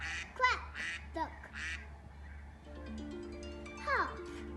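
An iPhone duck-quack ringtone plays as a short series of nasal quacks, faint and close, followed by a voice responding over a low steady hum.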